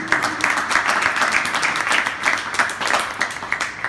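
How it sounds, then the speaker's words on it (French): Audience applause at a Montreal presentation event, a steady, fairly loud burst of many hands clapping throughout. "On peut l'applaudir, hein?"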